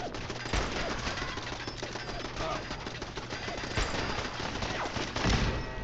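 Heavy gunfire in a video game, a dense, continuous fusillade of loud shots and bursts with crashing impacts throughout, the sound staying busy from start to finish.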